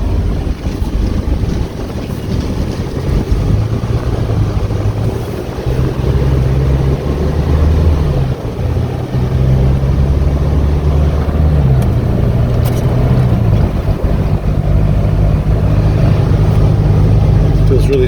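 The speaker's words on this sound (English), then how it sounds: "we're all set to give this Hino a test drive." A 2018 Hino 155 regular cab box truck with a 16 ft box pulls away on a test drive, a steady low engine drone with shifting pitch and wind rush throughout, while someone talks intermittently.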